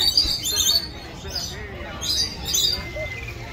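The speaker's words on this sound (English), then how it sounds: "There's birds on the ground, birds on the branches," Lorikeets squawking in an aquarium's walk-through aviary, shrill high calls in repeated bursts over a murmur of crowd noise.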